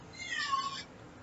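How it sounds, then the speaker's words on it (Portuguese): A pet cat gives a single clear meow, fairly close and moderately loud, rising and falling over under a second against a quiet room. "A minha gata está aprontando."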